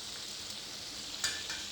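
Boneless fish frying in a pan, giving a quiet, steady sizzle with a faint clink of a utensil near the end and no talk.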